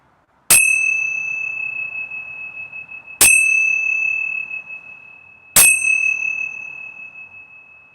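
A meditation bell struck three times at slow, even intervals, each a clear, bright ring that sustains and slowly fades before the next strike, heard alone over near silence.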